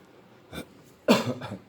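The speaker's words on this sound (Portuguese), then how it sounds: "Deu uma tossida aqui." Two coughs from a person, a short one followed after a pause by a louder, fuller cough with a trailing second burst, close to the microphone in a quiet room.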